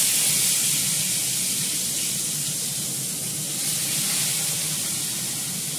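Large fish pieces fry in hot oil in a pan, giving a steady, dense sizzling hiss that holds at an even level throughout without pause.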